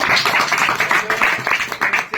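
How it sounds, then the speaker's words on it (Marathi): A crowd claps for a wrestler at an outdoor gathering, a loud, dense run of rhythmic clapping that fills the whole stretch with a voice faintly underneath. "यांच्यासाठी टाळ्या वाजू एकदा"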